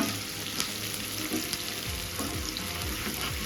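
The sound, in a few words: frying chopped onion and green chili in a pan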